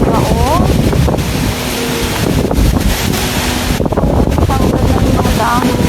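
Strong typhoon wind gusts across a rooftop garden with damaged sponge gourd vines, a loud, steady roar with buffeting against the microphone and a voice talking over it.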